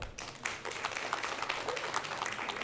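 Applause from a studio audience on an Armenian talk show, a steady dense clatter of clapping that lasts the whole stretch with no voices over it.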